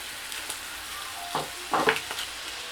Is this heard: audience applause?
no